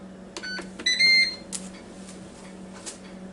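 A Ninja Foodi Deluxe pressure cooker beeps when its power is turned on, giving a few short tones and then a longer electronic chirp, close and clear over a faint hum.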